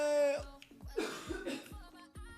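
A person coughs several times in quick succession, fairly close, in a quiet room.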